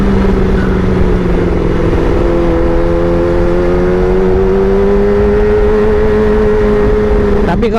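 Motorcycle fitted with a Pro Speed Black Shark silencer, engine droning loud and steady nearby with a slowly rising revving tone, no talking over it.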